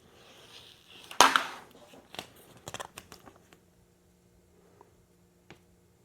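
A vinyl sheet for an arcade control panel box is peeled from its backing with one loud crackling rip, then a few shorter crinkles and ticks that fade to near quiet.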